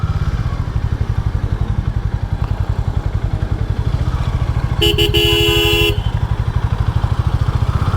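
Busy traffic at the Gandhi Bagh intersection in India, also called Sab Area Chowk, with a close, steadily throbbing motorcycle engine throughout and a sustained car horn blaring for about a second midway.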